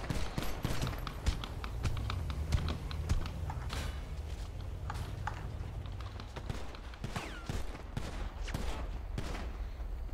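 Rapid bursts of gunfire in GTA V roleplay, sharp cracks scattered irregularly over a steady low background hum, with occasional mechanical clanks.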